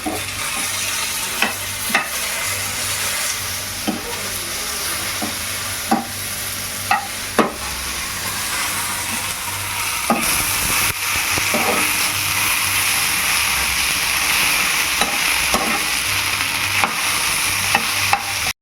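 Steady sizzle of okra sautéing in a pan, with occasional sharp clicks of a utensil stirring; no talking.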